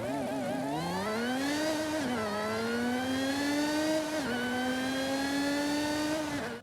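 A Lotus Exige 430 Cup engine in Forza Horizon 5 revs and accelerates through rising gears, a loud continuous engine note climbing in pitch with short dips at the shifts, alone with no talk.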